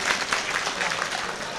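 Audience applause at a poetry recital during an all-India mushaira in Wardha: a short, steady burst of many hands clapping, moderately loud, with a faint murmur of voices mixed in.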